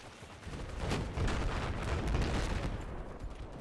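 Dense, loud gunfire from a gun in Battlefield 4, with rapid shots blending into a continuous chaotic barrage of battle noise.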